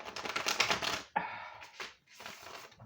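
A new, stiff oracle card deck being shuffled by hand, giving dense riffling and snapping bursts close up, with a brief pause midway before another flurry of shuffling.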